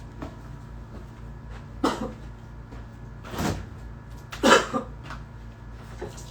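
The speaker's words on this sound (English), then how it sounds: "I hate dry coughs" Three short, dry coughs spaced a second or so apart, close and fairly loud against a quiet room background.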